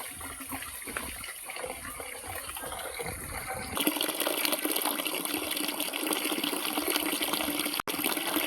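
Water pours to fill a container for washing laundry outdoors, a soft trickle at first that becomes a steady, louder gushing stream partway through, close by and continuous without talk.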